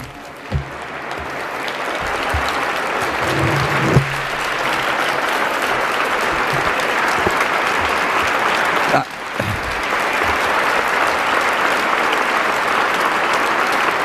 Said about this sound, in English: Please give a warm round of applause now to Seymour Hersh.